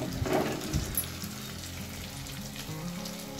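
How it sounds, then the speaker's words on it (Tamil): Okra (lady's finger) frying in hot oil, a close, steady sizzle with a few stirring clatters near the start. "வெண்டைக்காய் ஃபஸ்ட்டு வந்து நல்லா எண்ணெயிலே வதக்கணும்"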